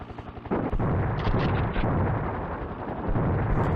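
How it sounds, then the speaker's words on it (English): Missile explosions from the SNES helicopter game Desert Strike: a dense, continuous run of loud, overlapping booms and bursts with no pause, thick low rumble throughout, no voices. "There's a reason I have missiles."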